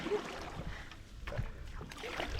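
A canoe is paddled on water in the Dutch countryside, with soft splashes and sloshing strokes over faint wind noise, fairly quiet and close.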